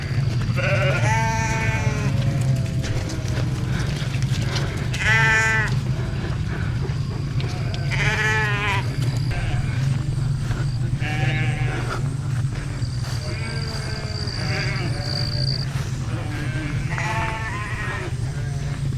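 Several sheep and ram lambs bleat repeatedly in a corral, some close and loud, others farther off, over a low steady rumble with a few calls overlapping.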